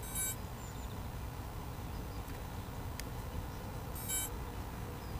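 Two short bursts of rapid electronic beeping from a quadcopter, one at the start and one near the end, over a steady low background hum.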